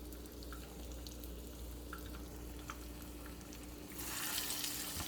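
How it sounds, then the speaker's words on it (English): Quiet, steady sizzling of chicken fingers frying in a pan, with a brighter hiss swelling near the end and a brief clatter. "while that's sizzling"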